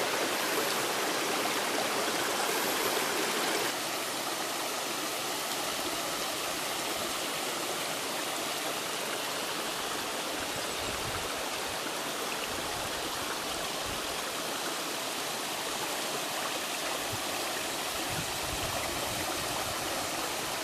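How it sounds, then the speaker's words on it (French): A river rushes steadily past a beaver dam on a remote trek at the southern tip of the world, a continuous broadband water roar that stays close and even throughout with no voices. "on longe toujours cette rivière par laquelle on est arrivé"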